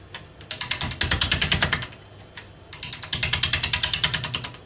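A wood lathe spinning at about 600 RPM knocks the corners off a bowl blank, making two bursts of rapid, evenly pulsed chattering taps, close and fairly loud, with a short quieter pause between.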